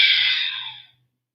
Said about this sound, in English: you'll also do it through the nose, but you'll exhale pretty audibly.